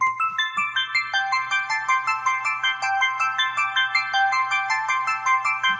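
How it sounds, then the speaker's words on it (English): A bright synth arpeggio cycles through rapid repeating notes over a low sustained bass, steady and even in rhythm throughout. "I put an ARP in almost every single one of my beats"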